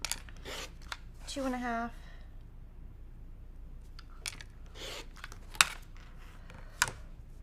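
Scissors cut through several layers of quilting fabric, giving a few crisp, separate snips spread out in a quiet room, with a brief spoken voice near the start.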